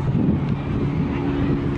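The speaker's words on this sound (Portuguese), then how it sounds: "O vento bate" Steady wind gusts buffet the microphone in the Brooklyn Botanic Garden, a loud, continuous low rumble with no talking.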